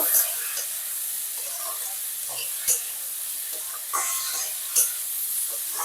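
Tomatoes and salt cook in a frying pan, giving a steady close sizzle and hiss broken by a few short scraping knocks of stirring.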